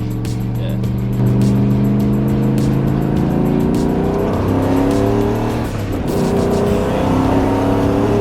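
A turbocharged car accelerates hard through the gears, its engine note climbing in long sweeps with a brief dip at each shift, loud and steady from inside the cabin.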